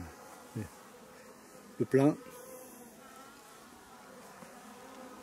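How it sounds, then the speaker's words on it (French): Bees buzz in brief passes close by at a water trough, a few loud bursts standing out against a quiet outdoor hum, with a short spoken word. "Aux abreuvoirs, il y a toujours du monde. Toujours des abeilles."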